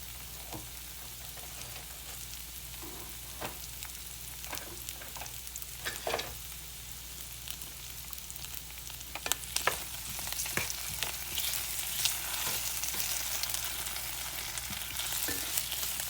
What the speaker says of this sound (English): Now you're going to want to just let this potato cook